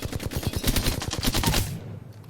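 Flatline assault rifle firing a sustained automatic burst in Apex Legends, a rapid, loud string of shots for about a second and a half that stops abruptly, leaving a brief fading tail.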